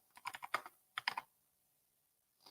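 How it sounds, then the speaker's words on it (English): Computer keyboard typing a name: a quick burst of about six key presses, a short pause, then three more taps, close and crisp, followed by quiet and one faint final tap. "I'll type my name."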